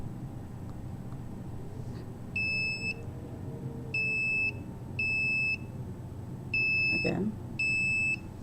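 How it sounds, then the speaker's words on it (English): Smoke detector in a building sounding five short repeated electronic beeps at regular intervals, set off near a cell phone, with someone talking over steady room hum and a brief clatter near the end. "It's the cell phone that's activating the detector."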